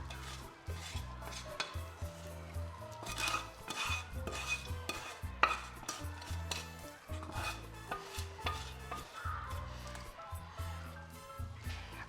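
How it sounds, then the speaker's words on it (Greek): A spoon stirs vermicelli and pine nuts through a pot for meatless Turkish-style pilaf, repeated close metallic scrapes and light knocks in an uneven rhythm with a faint sizzle underneath. "Ανακατεύουμε."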